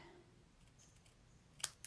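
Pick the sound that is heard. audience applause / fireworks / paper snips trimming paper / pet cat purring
paper snips trimming paper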